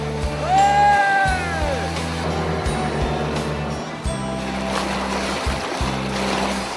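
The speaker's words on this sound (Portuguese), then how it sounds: "na represa do Passaúna, a nossa navegação vai ser no barco a motor." Motorboat cruising on the Passaúna reservoir, a steady low engine drone running throughout with brief pauses, while a voice speaks over it.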